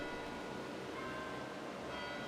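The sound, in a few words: chime bells rung from an abbreviated keyboard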